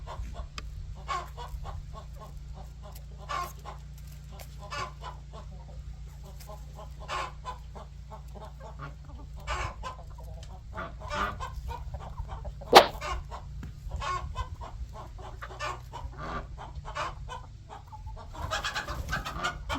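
Chickens cluck softly and intermittently over a steady low hum, with scattered short calls across the stretch and one sharp click midway.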